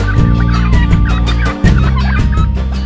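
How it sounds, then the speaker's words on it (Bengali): A flock of turkeys on a commercial turkey farm gobble loudly and continuously, many birds overlapping close by in a dense, rattling chorus. "এখন আমার এখানে 500 টার্কি মুরগি আছে, আশা করি আরও বাড়বে"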